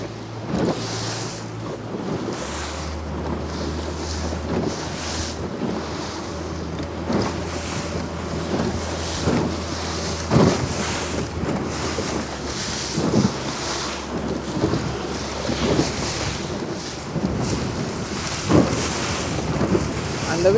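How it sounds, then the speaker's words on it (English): Steady wind rushing past the microphone during an 8 Metre World Cup sailing race, with broadband gusts, hull and water noise and a low engine-like drone throughout, continuous and fairly loud. "The wind has picked up a little bit."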